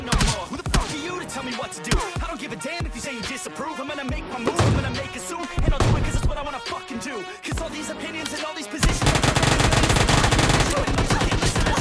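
Bursts of rapid automatic gunfire crackle in a battle royale video game, loud and close, with shorter volleys and pauses before a dense sustained stretch, with a voice talking over it.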